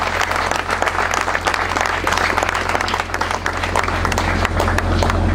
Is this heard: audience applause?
yes